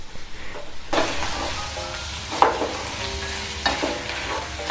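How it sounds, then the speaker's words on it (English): Minced meat stew stirred in a pot, a soft continuous sizzle with several scraping strokes of a spoon against the pot, close by and with no voices. "continue stirring and stirring and stirring"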